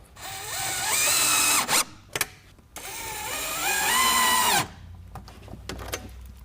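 A power drill drives screws into a bi-fold shutter track in two long, loud bursts whose whine rises in pitch as each screw tightens, with brief clicks and a short whir between them and a quiet pause at the end.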